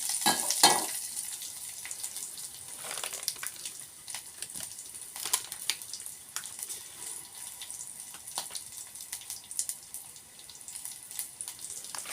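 Mustard seeds dropped into hot oil in a North Karnataka home kitchen, giving a faint, uneven sizzle with scattered pops and crackles, a brief louder burst near the start, then quieter spitting continuing alone.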